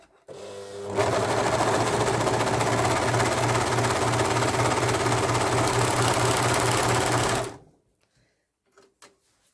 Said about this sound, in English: I like to check my tension and make sure that it's stitching okay before I start any project